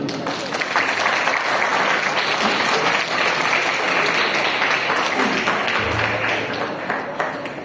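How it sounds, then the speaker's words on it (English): Audience at a school Gandhi Jayanti speech claps loudly and continuously for Mahatma Gandhi, a dense sustained wave of many hands holding steady for several seconds before easing slightly near the end. "give a clap for Mahatma Gandhi"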